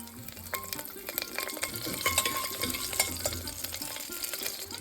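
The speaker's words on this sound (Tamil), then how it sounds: "வெந்தயம் நல்லா சிவப்பாக எடுத்து இப்போ பச்சை மிளகாயை சேர்க்குறேன்" Green chillies and fenugreek seeds sautéing in a pan for ladies finger sambar, a continuous close sizzle with clicking stirs and spatters, no talk.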